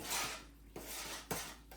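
A utensil scrapes and stirs taco-seasoned ground burger in a pan, giving soft sizzling with a few distinct clinks of metal on the pan, fairly quiet and close, with no talking.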